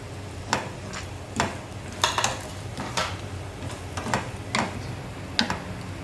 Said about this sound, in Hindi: इसमें हम थोड़ा काजू भी डाल के साथ में भून लेते हैं।